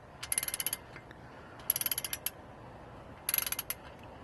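A socket wrench with a 14 mm hex socket ratchets on the differential drain bolt of a Mercedes W220 S500/S430, giving three quick bursts of sharp, rapid clicking, close and crisp, separated by short quiet gaps.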